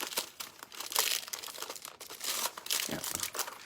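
Metal foil crinkles and crackles close up as fingers press it onto shoes, irregular bursts of crisp rustling with brief pauses between presses.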